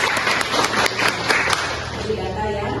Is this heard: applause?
yes